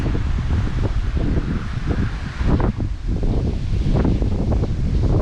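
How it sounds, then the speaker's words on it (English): Strong wind gusting around a house during bad weather in Mississippi, a rough, buffeting roar that batters the microphone continuously and loudly. "See the wind has blowing around the house?"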